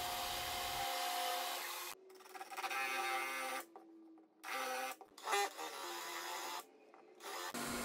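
A drill bores holes through wood panels for a baby crib, loud whirring bursts broken by short silent pauses, several separate drilling passes in a row with no talking.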